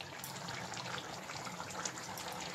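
Water runs and splashes steadily while being poured, a faint continuous gush close by.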